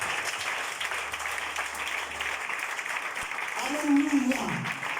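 A church youth convention congregation applauds for the Lord, a steady wash of clapping from the gathered crowd that runs throughout, with a voice speaking over it and a louder swell near the end.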